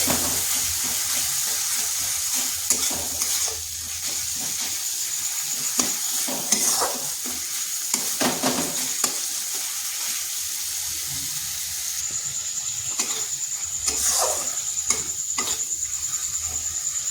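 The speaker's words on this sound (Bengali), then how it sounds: "মশলাটা কিন্তু একটু সময় ধরে কষতে হবে।" A spice paste is stir-fried in a wok with a loud, continuous sizzle, broken by frequent stirring scrapes and clatter, with some watery bubbling mixed in; no talking.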